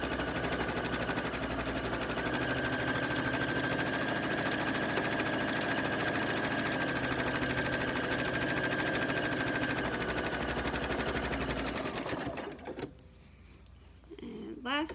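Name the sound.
sewing machine stitching cloth napkin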